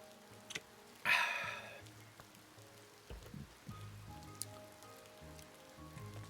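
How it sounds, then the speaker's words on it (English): Rain falls steadily in the farming game Ova Magica, a soft continuous patter with a brighter burst near the start and scattered low game sounds underneath. "I love it when it rains."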